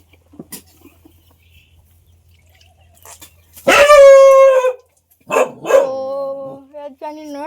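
A dog gives a loud, close bark followed moments later by a second shorter bark, after a nearly silent lead-in with faint ticks.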